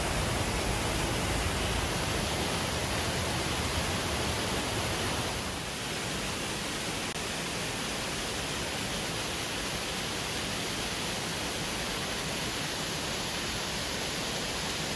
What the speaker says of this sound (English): come across this waterfall. It's streaming through a cavern here